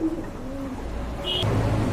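Rajshahi Giribaz pigeons give a brief, close low coo with a drawn-out rolling tone, set against a steady background hum.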